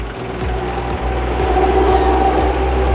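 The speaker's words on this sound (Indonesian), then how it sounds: "alhamdulillah hidup mesinnya dengan normal" A diesel engine catches after a slow crank and settles into a steady, close running rumble with a low pulsing throb, growing slightly louder as it continues.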